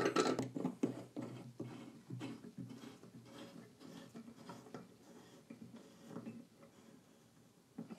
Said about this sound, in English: Let's try to clamp something down.